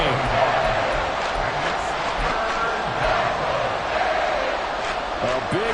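A crowd at a USFL football game late in the fourth quarter of a one-score contest keeps up a steady, loud roar. A commentator talks over the crowd throughout.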